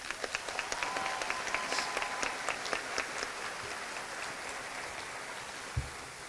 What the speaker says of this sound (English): Can we just applaud our teachers?